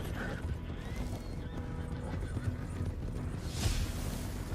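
Horse in Red Dead Redemption 2 Online galloping at race pace, with steady hoofbeats under dense game noise and a whinny near the start, no talk.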